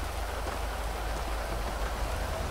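Steady rain at night in the GTA 5 video game, a constant soft hiss and patter with no voices or other sounds over it.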